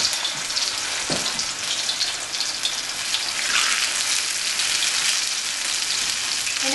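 Empanadas frying in hot vegetable oil, a dense, steady crackling sizzle like rain throughout, close up, with a brief bump early on and no voices.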